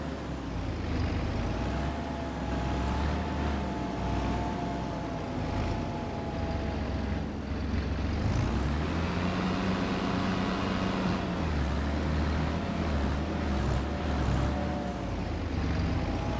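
A tractor engine in a farming video game, used for forestry work, drones steadily and fairly loud for the whole stretch, its pitch shifting slightly as it drives. No one talks over it.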